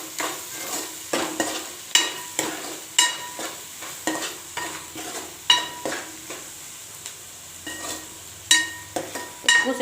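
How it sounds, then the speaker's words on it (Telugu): Coriander powder frying in a pan for Telangana-style chicken curry, with a steady sizzle and repeated scraping stir strokes of a spoon against the pan at a brisk rhythm, close and clear, no voices. "ఇప్పుడు ఇది కొంచెం ఫ్రై కావాలి."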